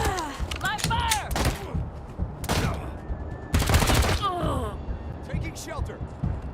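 Bursts of gunfire and whizzing effects from the video game Wasteland 3 crackle in quick volleys, with loud clusters of shots mixed among character voice lines and grunts.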